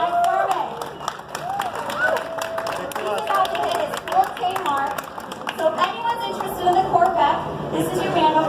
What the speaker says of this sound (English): Everyone, give a round of applause for Mike.